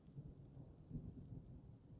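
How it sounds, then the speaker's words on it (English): Rain and thunder in the video game Dwarf Fortress form a faint, steady low rumble with a soft wash of rainfall, unbroken and without voices. "It's also raining, so that's helping."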